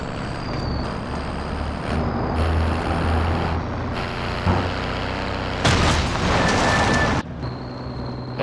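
A truck drives in Call of Duty Modern Warfare battle royale, its engine droning steadily and loudly throughout with shifting pitch and bursts of rushing noise, with no talk heard.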